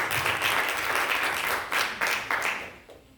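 A church congregation applauds, with a dense wash of clapping that holds steady for a few seconds, then tapers off toward the end.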